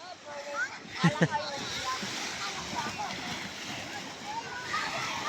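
People bathing at the sea on a summer beach outing: steady surf and lapping water with a couple of sharper splashes, close and moderately loud, under a person talking and other voices in the distance.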